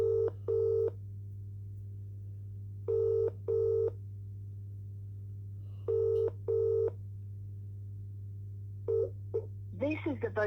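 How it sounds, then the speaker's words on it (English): A mobile phone ringback tone repeats in paired pulses over a steady low hum, then a Vodafone voicemail greeting begins speaking at the end. "Ringing Christopher Browell."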